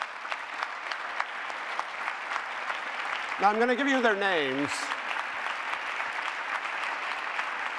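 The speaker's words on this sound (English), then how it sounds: "I want them to come in a bit so we can applaud them from..." Audience applause fills a conference hall during the closing remarks of a forum, a steady dense clapping that runs throughout while someone speaks over it through a microphone.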